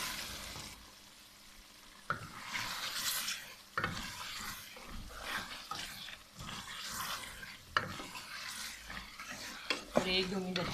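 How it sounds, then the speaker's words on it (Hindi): Mutton for Shinwari pulao fries with salt and ground black pepper in a pot, sizzling steadily while a spoon stirs and scrapes against the metal in repeated strokes, close and fairly loud throughout. "और 1-2 मिनट अच्छी तरह फ्राई कर लेंगे।"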